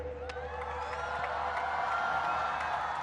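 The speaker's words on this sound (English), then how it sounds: "The crowd once again staying back as a huge cheer goes up for the Pakistan star" At a Pakistan versus England T20 cricket match, a distant stadium crowd cheers for Pakistan captain Babar Azam, a steady faint roar with scattered whoops and claps.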